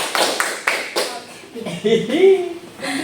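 Hand clapping in counted patterns during a classroom physics activity on static electricity: a few sharp single claps, then a voice talking with scattered light taps.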